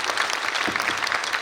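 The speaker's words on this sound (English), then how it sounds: "Let's give a round of applause for them." Audience applause at a film festival event in Shillong, a steady wash of many hands clapping at moderate volume from a crowd, continuous throughout.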